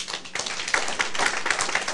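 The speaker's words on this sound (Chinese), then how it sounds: "咱甲鼓掌一下。" An audience at a closing assembly claps briefly, the individual claps quick and even, near and moderately loud, with no speech.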